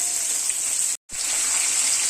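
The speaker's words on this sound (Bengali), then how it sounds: "মাছগুলো আমি প্রথমে ভাজা করে নিই" Surmai fish pieces frying in oil, a steady close hiss and sizzle broken by a brief total dropout in the middle, with no voices.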